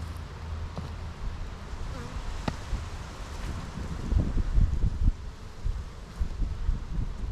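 Honeybees in a small three-frame nuc colony hum in a soft, steady drone close by, with light rustling and handling noises rising and falling through it.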